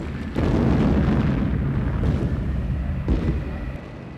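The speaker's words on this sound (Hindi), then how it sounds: "इस जगह पर विस्फोट होना आम बात है।" A deep, rumbling blast erupts and rolls on steadily, a broad roar of rock breaking in a copper mine that swells again near the end, with no voices.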